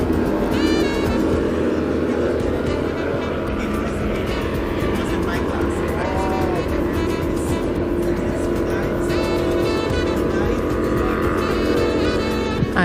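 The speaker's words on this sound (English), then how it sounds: "all we are hearing are those engines roaring" Racing boat engines in the 70-mile-per-hour class roar steadily and loudly throughout a regatta run at Casters Cove, a continuous dense drone with commentary layered over the top.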